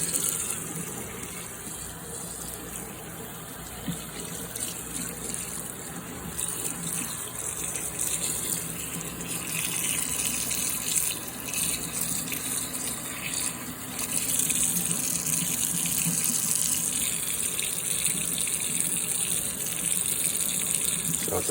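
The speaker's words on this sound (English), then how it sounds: "as the water comes in contact with the green cell foam, it just rapidly dissolves away into nothing" Tap water running steadily into a sink over green cell foam as it dissolves, a continuous close hiss and splash that grows a little louder partway through, with no talking.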